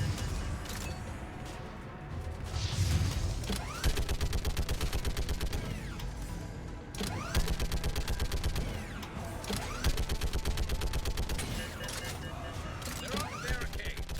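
Video game gunfire, rapid bursts of shots in quick succession that repeat through the stretch, mixed with mechanical clanks and other game effects, fairly loud and continuous.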